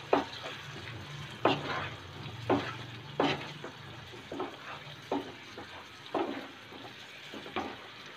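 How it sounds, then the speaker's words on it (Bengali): Masala with chili powder and salt is fried for chicken liver bhuna in a pan under a soft, continuous sizzle. Spatula scrapes recur roughly every second, close but fairly quiet, with no voices. "মশলাটা কষিয়ে নেব।"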